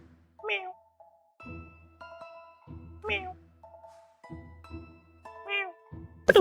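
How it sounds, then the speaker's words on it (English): A cat meows in a sealed box inside a video game, giving several distinct rising and falling meows at a moderate, close level, separated by short gaps and overlapping tonal game sounds. "If a Perfect. cat meows in a sealed box, does it make a sound?"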